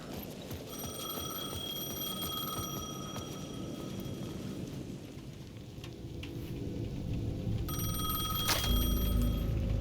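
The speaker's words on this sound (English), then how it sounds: "The payphone at the edge of the plaza was ringing again." A payphone in the video game Alan Wake 2 rings with a bright electronic trill that repeats for several seconds, pauses, then resumes, over a low rumbling ambience like rain.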